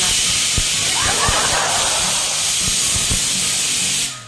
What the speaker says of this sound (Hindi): 2 कुकर रखे हुए, एक के बाद एक सीटी मार रहा है, बोलने का मौका ही नहीं दे रहा।